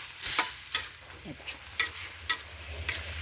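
Bitter melon and crispy pork are stir-fried in a pan: a spatula scrapes and tosses in several sharp, close strokes over a light sizzle, with no voices.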